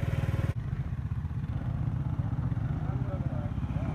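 Several motorcycles arrive, each carrying three boys. Rapid engine chugging sounds nearby, then a steadier mix of engines and clatter, with voices speaking over it.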